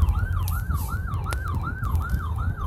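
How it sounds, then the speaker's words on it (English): An ambulance siren wails in a rapid, repeating up-and-down yelp, loud and close, over a low rumble of traffic. "There's an ambulance."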